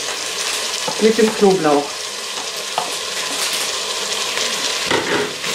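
Onions, minced meat, carrots and garlic fry in a multicooker pot, a loud steady sizzle with stirring scrapes, while a voice speaks briefly over it.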